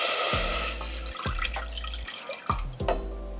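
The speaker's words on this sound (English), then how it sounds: "I'm adding half of my cherry juice to a pot" Cherry juice poured into a pot for a German Snow White Cake topping, with liquid splashing and glugging in a few uneven bursts close by, alongside clinks of the pot.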